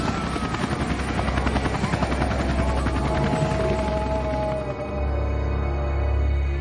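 Loud, steady rotor-and-engine roar of military aircraft passing overhead above a zoo, a continuous heavy drone that dips briefly and then swells again, with no voices.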